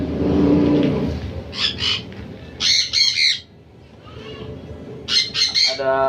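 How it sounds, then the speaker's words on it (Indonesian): Parakeets and lovebirds kept in a colony breeding cage squawk in loud, harsh bursts, several close calls in clusters over steady background rumble and faint voices. "Ada burung parkir, ada burung lovebird."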